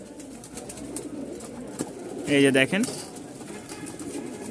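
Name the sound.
young flying pigeons cooing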